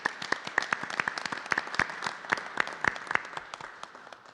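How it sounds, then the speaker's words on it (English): Scattered applause from a small group at a school board meeting honoring Cyclone Virtual Academy staff, with distinct individual claps that gradually thin out and fade toward the end. "Can we give a round of applause for the Cyclone Virtual Academy staff?"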